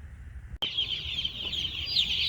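Chickens clucking on a farm, a close, busy chatter of several birds starting abruptly after a brief quiet moment and continuing throughout.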